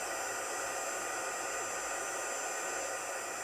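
A heat gun blows hot air over embossing powder on a handmade card, giving a steady, loud broadband hiss with no breaks and no speech.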